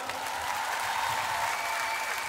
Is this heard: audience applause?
yes